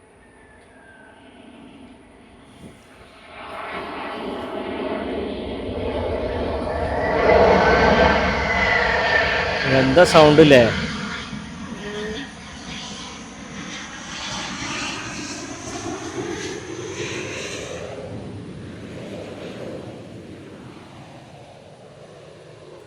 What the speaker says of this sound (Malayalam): ഫ്ലൈറ്റ് ഇങ്ങനെ താന്ന് അത് ഇറങ്ങണു